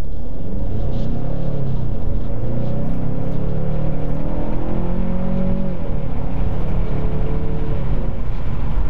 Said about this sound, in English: we can check the acceleration with the car on it doing the shifting on its own